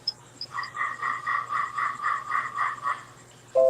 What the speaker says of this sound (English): The tree frogs out around the deck have been doing that since it's raining.